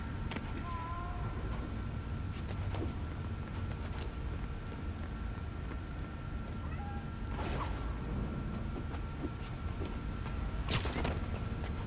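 A kitten meows faintly a few times in Spider-Man: Miles Morales amid a subway bomb-defusal scene, short thin cries over steady low rumbling ambience.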